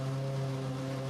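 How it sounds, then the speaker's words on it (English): Formula One Ferrari engine in the racing game Assetto Corsa, a steady droning tone held at constant pitch, quiet and alone with no voices. "That's the sound of a Formula One Ferrari engine."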